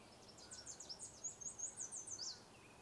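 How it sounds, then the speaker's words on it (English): Wilson's warbler singing in a marsh, a thin, fast run of high chipping notes lasting a couple of seconds, faint and somewhat distant over quiet background. "could have been Wilson's warbler"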